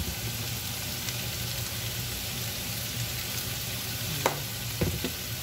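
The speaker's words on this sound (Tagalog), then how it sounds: "Tapos haluin ulit." Vegetables sizzle steadily in a hot pan for a sweet and sour chicken dish, a close, constant frying hiss with a few soft scraping knocks as they are stirred near the end.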